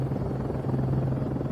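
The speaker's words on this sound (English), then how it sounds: "As the helicopter scans the ground below, suddenly something shows up." A police helicopter flies overhead during a night-time search over a farmer's field near a water park and woodland, giving a steady, loud rotor and engine drone that continues without a break and has no talk over it.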